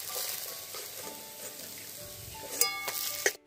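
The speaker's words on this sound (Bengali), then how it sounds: "ঠিক এরকম করে বড়াটাগুলো ভাজতে হবে" Bora fritters frying in hot oil, a steady close sizzle with occasional stirring scrapes and a couple of sharp clinks near the end, no voices.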